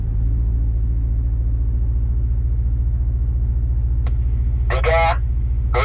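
A Ford Ranger Raptor engine in low range and second gear gives a steady, close, deep rumbling drone throughout. A brief voice is heard near the end.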